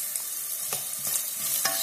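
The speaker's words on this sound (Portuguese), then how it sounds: "Aí agora aqui a gente dá uma fritadinha." Garlic, onion and bacon fry in a pan, a continuous bright sizzle with a few quick stirring scrapes, close and steady.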